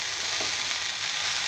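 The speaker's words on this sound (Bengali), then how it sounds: "এভাবে একটু সময় নিয়ে ভেজে নিতে হবে" Mixed vegetable bhujia frying in a pan, a steady close hiss of oil sizzling with a faint soft stir near the middle, no voices.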